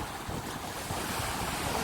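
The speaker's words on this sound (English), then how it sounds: "today the sea is so rough. Look at the sea." Rough sea surf along the coast of St. Catherine, Jamaica, on a sunny day, a continuous churning roar of waves mixed with gusty wind buffeting the microphone.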